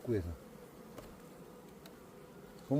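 Honeybees drone steadily during a beehive inspection, a continuous close buzzing hum throughout with brief louder bursts at the start and end, where a voice also briefly talks.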